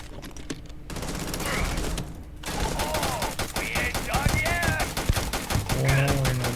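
Rapid gunfire bursts from a Starfield video game firefight, crackling volleys repeating over layered game effects and background sounds.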